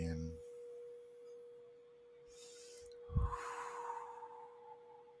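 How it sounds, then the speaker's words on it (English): A long, deep breath is drawn in through the nose, soft and near, during a guided breathing exercise, with a steady faint tone humming underneath and no talk. "I'm going to breathe in with my nose, like a 4 count"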